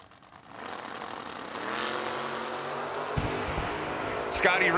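A drag racer launches hard off the starting line with a big wheelie at an NHRA-style event, its engine rising from a low rumble to a loud roar with a sharp bang near the end while an announcer talks over it.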